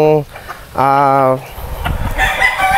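Gamecock stags crow loudly and close, two long harmonic crows a few seconds apart, followed by clucking and general farmyard noise.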